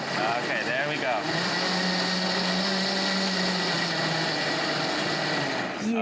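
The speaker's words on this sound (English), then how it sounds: "So when you're blending that cheese in, it won't get stuck to the side of the blender." A blender mixes cheese and sugar for a pumpkin dessert. Its motor gives a loud, steady, high-pitched whir close by that runs the whole time, with talk over it.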